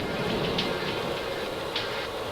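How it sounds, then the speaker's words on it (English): Steady rain in the video game Three Fourths Home makes a continuous, even hiss of falling drops with faint scattered patters, heard alone with no talk. "Just rain."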